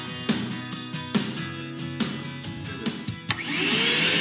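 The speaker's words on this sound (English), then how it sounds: "Celebrating the sound of a vacuum cleaner." A vacuum cleaner starts up after a series of bumps and clunks, then runs with a steady loud whine.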